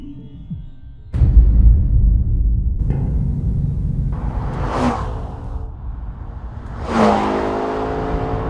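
A McLaren 650S sports car's engine kicks in with a sudden loud roar and rises through revs, with two sharper swelling surges, close and steady throughout.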